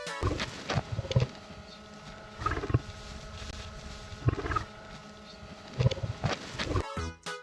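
A lion sound effect roars in four deep, rumbling bursts spaced about a second and a half apart, loud and close with quieter gaps between, and no talking.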